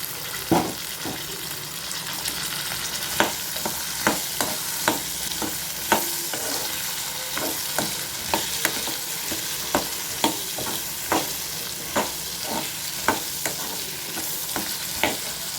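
Garlic and onion fry in a pan for garlic kuzhambu, a steady loud sizzle with regular scraping strokes of a stirring spoon repeating about once a second, close up with no talk.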